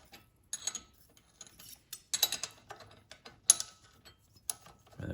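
Ratcheting wrench work on a Briggs engine from a John Deere D105 mower: fast clicking pawl bursts of mechanical clatter, close and fairly loud, coming in uneven spurts separated by short pauses, with no talking.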